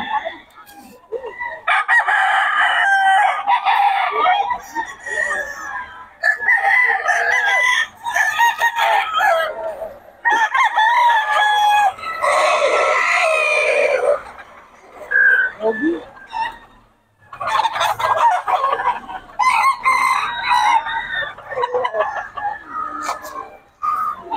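Several roosters and chickens in Bocaue crow one after another in repeated loud calls, with clucking between them and brief quiet gaps.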